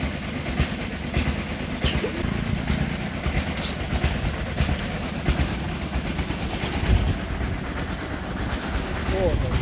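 A motorbike rides along a road, giving a steady, rough roar of engine and wind that stays constant and loud the whole way, with no pauses.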